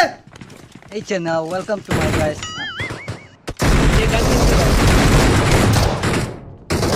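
Gunfire in the mobile battle royale game BGMI: a loud, dense burst of rapid shots fills the second half, after earlier mixed game sounds and voices.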